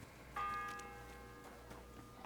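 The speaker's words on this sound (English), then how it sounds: "The 6th bell." A single church bell strikes once in the video game Kingdom Come: Deliverance 2, a quiet, clear toll whose ringing tone lingers and slowly decays over a low ambient hum.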